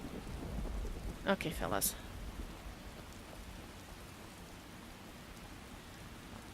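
Steady rain falling across an outdoor scene in the video game Skyrim, a soft continuous wash of noise throughout, with a brief voice and a short sharp burst near the start.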